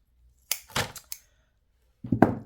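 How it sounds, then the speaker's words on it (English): A few sharp snips of scissors cutting during a diamond-art and mold crafting session, several quick close clicks followed by a pause and two more cuts. "I use my scissors for everything."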